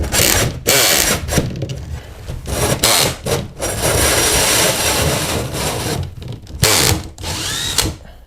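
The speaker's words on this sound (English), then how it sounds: "So now you drilled the hole." A drill bores a hole through a wooden stud for electrical wire, giving loud grinding, rasping bursts with brief stops and restarts, close up.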